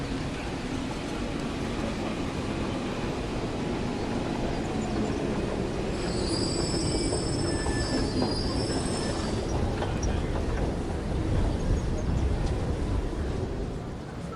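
A Paris metro train rumbles steadily along the rails with a high wheel squeal rising midway, loud and close throughout.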